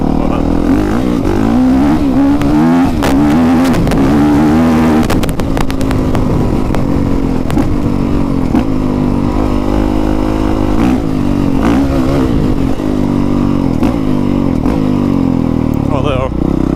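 A 2020 Honda CRF450R dirt bike engine revs hard while being ridden, loud and continuous with rising and falling throttle blips, heard up close from the rider's position amid wind rush.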